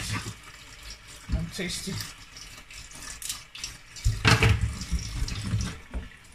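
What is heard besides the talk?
tap water running while washing mackerel fish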